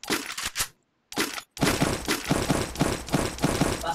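Rapid gunfire from a mobile shooting video game, with a few short bursts and brief pauses and then a dense, sustained volley of rattling shots, loud and close.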